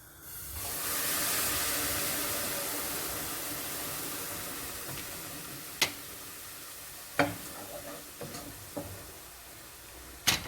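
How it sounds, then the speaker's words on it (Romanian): Toasted risotto rice in a pan hissing and steaming loudly as broth is poured in, the sizzle slowly fading while a few sharp clicks and taps of a utensil sound in the later seconds. "acum îl sfumăm cu bulion"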